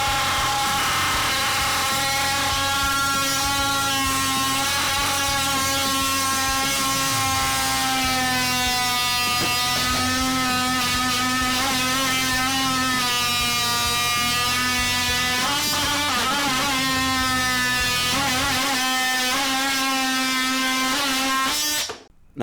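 A DeWalt 20V Max XR cordless oscillating tool cuts into wood with a loud, steady high-pitched buzzing whine, its pitch wavering under pressure for about twenty seconds before stopping abruptly, with no voices.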